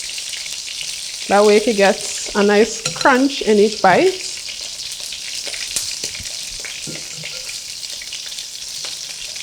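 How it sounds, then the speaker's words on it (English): Small chicken pieces for a Nigerian chicken stew fry in a pan with a steady, bright sizzling hiss throughout, while a voice talks over the first half. "We let it fry for about 1 minute on each side, 1 to 2 minutes."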